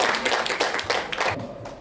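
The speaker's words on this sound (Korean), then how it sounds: "박수로 맞이해 주시기 바랍니다." An audience in a small hall at a Korean folk-song fan meeting claps to welcome a speaker, a brief burst of quick, close handclaps that fades out within two seconds.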